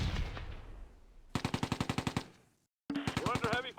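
Machine-gun fire from the wartime strategy game Close Combat: A Bridge Too Far, a loud steady burst of rapid rounds, then a short silence, then a second sustained burst, set against a battle rumble.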